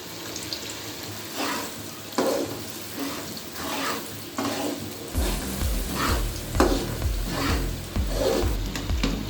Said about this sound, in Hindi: साथ साथ ना इसी तरह चम्मच इसमें मुसलसल हिलाएंगे